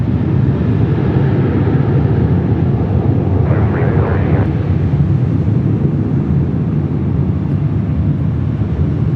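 A Southwest airliner taking off from runway 24 left at Los Angeles International Airport, a steady broad jet roar that stays loud and unbroken throughout, blended with wind rumble on the microphone.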